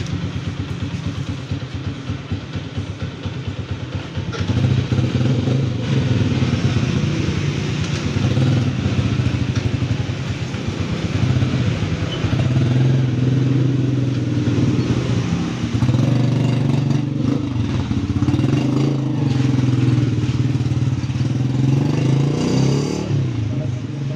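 A misfiring motorcycle is run after a basic repair to test whether the fault is gone: a close, continuous engine drone that steps up in revs early on and holds a rough, busy idle-to-rev tone throughout.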